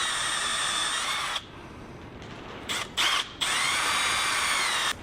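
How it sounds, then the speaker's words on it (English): A power drill bores into a steering column bracket on a square-body truck, sounding as a loud, steady high-pitched whine that breaks off briefly in the middle with a few short bursts, then resumes for the rest. "Let's drill this side."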